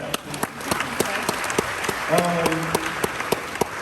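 Applause from an event audience at a motivational speaking tour, with scattered distinct claps over a crowd murmur and a voice speaking partway through.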